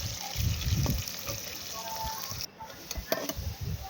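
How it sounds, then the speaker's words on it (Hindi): Sliced onions frying in hot oil for aloo biryani hiss and crackle with a steady, watery sizzle that runs throughout, partly under a voice speaking nearby. "हमारे पास जो प्याज है वो फ्राई होने लग रहे, अभी वो फ्राई हो रहे"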